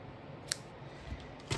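A few sharp snips of scissors cut through ribbon, quick and close, with a soft hiss of room noise in between.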